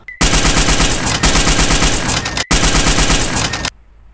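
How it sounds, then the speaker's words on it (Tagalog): Gunfire from an aswang adventure audio drama: loud, close, rapid automatic bursts in three long runs with brief gaps, then a sudden stop. "tinaddad na ng putok ang mukha ng aswang nakaharap"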